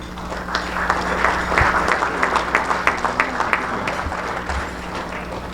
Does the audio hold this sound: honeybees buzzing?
no